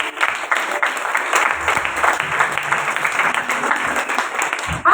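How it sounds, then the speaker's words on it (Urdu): A church congregation at a Christmas sermon applauds loudly, a dense steady clatter of many hands lasting several seconds, with some voices faintly mixed in. "خدا کی اس قدرت کے لیے زوردار تالی."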